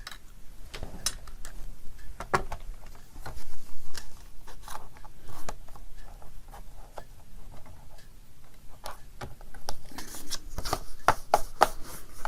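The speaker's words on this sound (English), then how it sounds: "we're going to cut this off so it's not a point" Scissors trimming a pointed corner off two stacked paper pages during a craft session, a string of crisp snips and rustles at close range with no talk.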